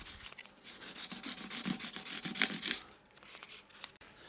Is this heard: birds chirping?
no